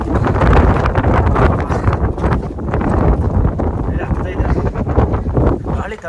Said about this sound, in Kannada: ಗಾಳಿ ತಳ್ತಾ ಇದೆ ಫ್ರೆಂಡ್ಸ್